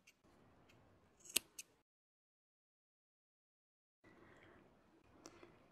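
Scissors snip through yarn while an Alize Puffy scarf is being finished, giving a couple of sharp close clicks in a quiet room, then a long silence before faint handling noise returns.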